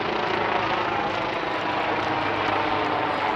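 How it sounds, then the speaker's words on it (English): A helicopter passes overhead above a T10 cricket ground at night, its steady broadband rotor and engine drone loud and continuous with no pauses. "The umpire's just got a helicopter going on above."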